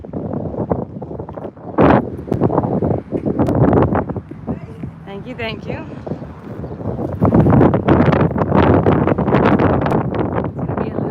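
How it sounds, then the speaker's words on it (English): Strong wind buffets a microphone outdoors, a steady low rumble with loud gusts near the start and toward the end, running under a person's speech throughout. "It's gonna be a little bit windy today, guys."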